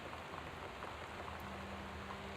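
Steady rain ambience from the video game Gone Home, a constant broadband hiss of falling rain with a faint low tone running beneath it and no voices.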